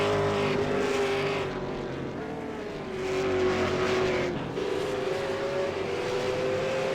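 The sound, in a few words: V8 Supercar race cars racing at Oran Park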